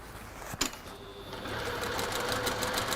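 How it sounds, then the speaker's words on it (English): A sewing machine stitches along marked lines on fabric, starting after a brief click and settling into a steady, close rhythmic whir. "So I will sew on both of those lines that I've marked."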